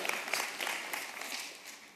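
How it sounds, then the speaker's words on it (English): Church congregation clapping at a sermon, a steady wash of many hands at moderate distance, fairly quiet and continuous with no speech over it. "Yes, clap for that."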